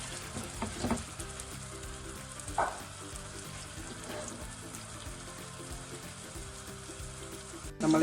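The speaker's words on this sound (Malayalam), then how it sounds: "എണ്ണയിൽ ഓരോ സൈഡും തിരിച്ചിട്ട് കൊടുത്ത് നമുക്കത് ഫ്രൈ ആക്കി എടുക്കാമേ." Unniyappam dough balls fry in hot refined oil, making a soft, steady sizzle with occasional clinks of a utensil turning them, fairly quiet and close throughout.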